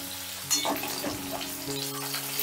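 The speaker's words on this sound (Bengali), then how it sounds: "আদাটা একটু নাড়াচাড়া করে নিলাম, মানে যতক্ষণ আদার কাঁচা গন্ধটা না যাচ্ছে" Grated ginger with chopped green chillies sizzles steadily in a hot pan for cabbage balls while a utensil stirs it, making a constant close frying hiss with a few scraping strokes.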